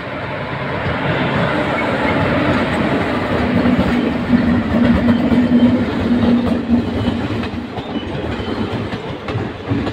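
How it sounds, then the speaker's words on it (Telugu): The Satavahana Express rushes past a platform nearby with a loud, steady rumble and rattling wheels that hold for the whole stretch. "మీరు చూస్తున్న ట్రైన్ శాతవాహన ఎక్స్ప్రెస్."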